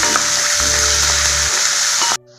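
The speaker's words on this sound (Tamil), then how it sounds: "பாருங்கள் வெங்காயம்லாம் நல்லா வதங்கி வந்துடுச்சு" Onions sauté in hot oil for radish chutney, a close, steady sizzle with a few faint stirring knocks, cutting off abruptly near the end.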